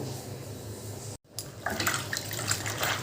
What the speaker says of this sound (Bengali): এবার আমি এই সব লাউ পাতাগুলো ভালো করে ধুয়ে নেবো